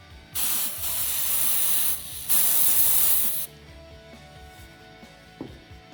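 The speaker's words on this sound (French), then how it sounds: "j'utilise mon spray pour sécher le vernis" Quick-dry nail polish spray from an Action store, two close hissing bursts of about one and a half seconds each, followed by quieter background with faint music.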